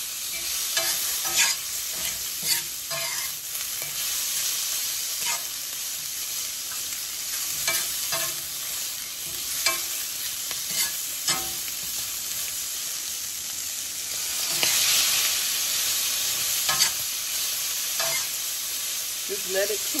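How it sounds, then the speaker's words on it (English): Food sizzles steadily in a hot pan, cooking in its own natural juices for a breakfast dish, with a constant bright crackle, occasional sharper pops and spatter, and a brief louder hiss mid-way, close and without talk. "we're gonna let it cook in its natural juices"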